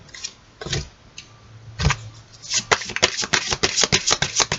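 Tarot cards shuffled by hand, a few soft isolated riffles giving way to a quick run of crisp, close card flicks and slaps.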